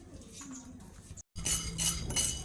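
Black pepper and cumin dry-roasting in a pan without oil, with a steady scraping, rattling clatter of a utensil against the pan, close and continuous apart from a brief pause.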